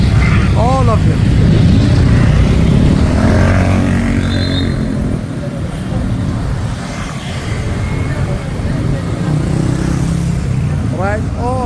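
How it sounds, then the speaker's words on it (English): Dense street traffic in Bangkok, with cars, motorcycles and tuk-tuks, keeps up a loud, continuous engine rumble and passing whooshes while someone talks over it. "there's a lot of traffic all the way. You see all these cars"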